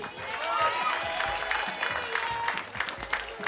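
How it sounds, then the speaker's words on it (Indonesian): Studio audience applauding on an Indonesian TV talk show, a steady dense patter of many hands filling the clip, with some crowd noise and voices mixed in. "Kasih tepuk tangan paling meriah dong."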